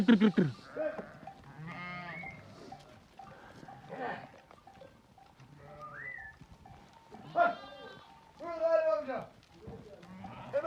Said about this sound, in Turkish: Koyun içeri koyun geliyor.